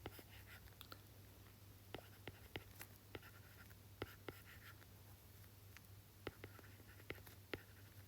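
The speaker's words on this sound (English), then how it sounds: "I'm going to write all the enthalpy that we just now calculated." A pen writes out enthalpy values by hand in a quiet room, scratching softly with frequent small taps and strokes, faint and close over a low steady hum.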